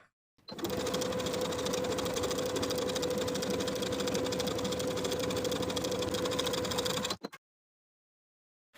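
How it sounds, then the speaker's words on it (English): A sewing machine topstitches a jumper seam allowance in one steady, loud, close run of rapid stitching lasting about seven seconds before stopping abruptly. "we're going to top stitch that seam allowance in place"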